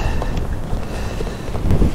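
Strong gusts buffet the microphone on a windy outdoor bike ride, a dense, continuous low rumble that swells louder near the end, with no voices.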